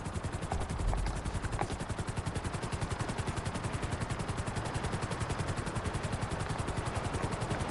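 A helicopter flies in GTA Online, its rotor chopping in a rapid, steady pulse that stays loud and close throughout, with a few brief sharp pops early on.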